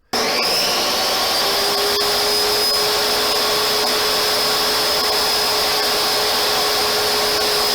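A table saw in a 1905 cottage restoration workshop starts up and runs loud and steady with a high motor whine as a board passes through, continuous throughout with no voices.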